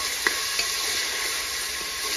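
Carrots and beans fry with salt in a pan for pulao, giving a constant close sizzle with a couple of sharp utensil knocks from stirring, and no one speaking.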